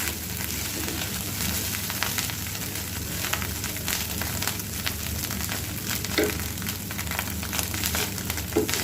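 Shrimp crackles and sizzles in a pan as it browns, a dense, continuous frying hiss peppered with sharp pops and occasional stirring scrapes, close and alone.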